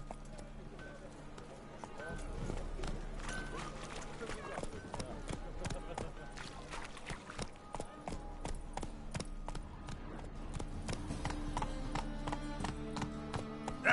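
Roach the horse gallops in The Witcher 3, hooves clip-clopping in a quick steady beat under a thick layer of game music and ambience, with voices speaking over it.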